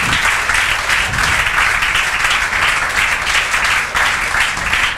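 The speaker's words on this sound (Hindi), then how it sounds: "इलेक्ट्रिकल भैया के लिए जोरदार तालियां बजाओ" Classroom applause for an electrician, steady clapping from many hands throughout, fairly loud and continuous with no talk over it.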